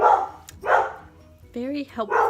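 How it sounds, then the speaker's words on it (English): A nearby house dog barks in two or three short, sharp bursts, with someone speaking briefly in between. "Sorry about my dog."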